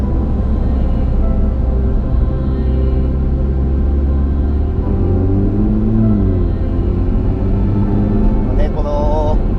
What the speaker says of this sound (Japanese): スパイダーモデル、フェラーリはどのスパイダーモデルもそうですけど、 エンジンサウンドがね心地よく耳に届いてくれて